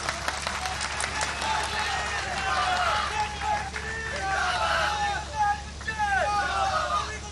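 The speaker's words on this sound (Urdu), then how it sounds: "اور بھائی ذرا نعرے والے بند کرو یار" Crowd at a hospital opening ceremony in Punjab, a lively babble of many voices with shouted slogan chanting and some clapping, steady and moderately loud, with someone speaking over the noise.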